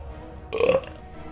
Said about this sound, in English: Just burps.